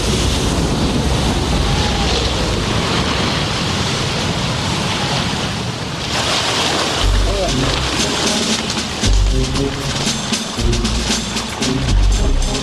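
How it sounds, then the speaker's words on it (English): Heavy sea waves crash against a pier in winter storm conditions, a continuous broadband roar with rushing surf and deep booming impacts, loud and close throughout. "footage from last winter shows the pier engulfed by waves"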